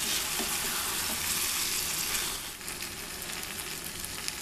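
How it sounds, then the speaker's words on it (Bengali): Food frying in a pan for a Bangladeshi chicken tehari, a steady close sizzle that stays loud and unbroken throughout, easing slightly partway through, with no voices. "ভেজে নিব"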